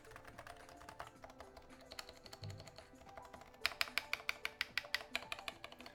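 Keystrokes on a keyboard fitted with GMK Necro keycaps on a Nova Touch board, first a soft scattered patter, then a louder, sharper run of evenly spaced clacks close by, with no talk.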